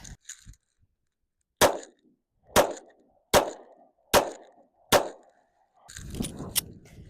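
Five sharp, evenly spaced pistol shots from a compact 9mm S&W Bodyguard 2.0 pocket pistol ring out about a second apart, each loud and crisp with a short ringing tail, followed by a burst of clattering handling noise.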